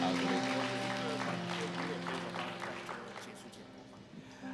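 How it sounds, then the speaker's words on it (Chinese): Applause from a church congregation thanking Pastor Wong, a steady patter of many hands that thins and fades toward the end, with no voices over it. "我们给我们黄牧师一个热烈的掌声"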